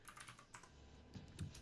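Quick, faint keystrokes sound on a computer keyboard during a command-line session, with soft irregular clicks close to the microphone.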